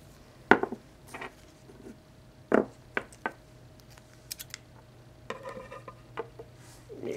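Scissors snip through a strip of electrical tape while homemade blow darts are being made, giving several short, sharp cuts close by in a quiet room, with no talking.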